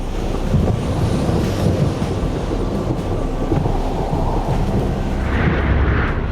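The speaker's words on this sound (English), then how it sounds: "It was a storm." A night thunderstorm off the China coast, with deep rumbling thunder and heavy wind buffeting, loud and continuous with swells of roaring noise.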